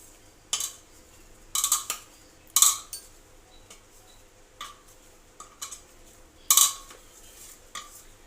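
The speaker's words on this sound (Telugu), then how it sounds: "ఒకసారి మళ్ళీ కలుపుదామండి మంచిగా పిండి మెత్తగా బాగా ఉంది" Badusha sweet dough being mixed in a bowl, heard as sharp clinks and scrapes of a utensil against the bowl in irregular bursts, close and fairly loud over a quiet background.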